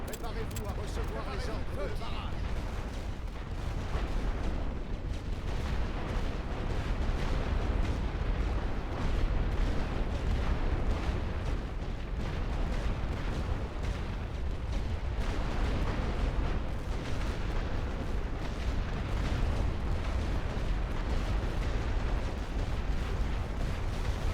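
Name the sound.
artillery barrage in video game The Great War: Western Front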